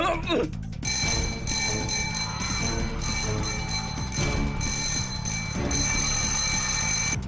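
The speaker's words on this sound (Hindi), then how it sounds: "तुम्हें घंटी सुनाई दी क्या? स्कूल छूट गया क्या?" A continuous electric school bell rings steadily throughout, partly buried under loud voices and busy background noise.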